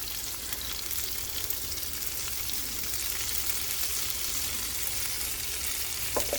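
Seasoned potatoes fry in a pan, giving a steady, close, even sizzle with a dense crackle that holds through the whole stretch, with no voices over it.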